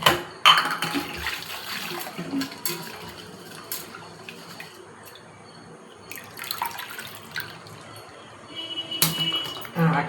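Rice being washed in water in a home kitchen before soaking, with intermittent splashing, swishing and clinking of a vessel, close and moderately loud with quiet gaps between bursts.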